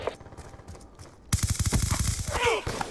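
Rapid bursts of automatic gunfire from a Call of Duty Black Ops II multiplayer match, starting abruptly after a quieter lead-in and continuing loud and dense for the rest, with a brief game sound effect near the end.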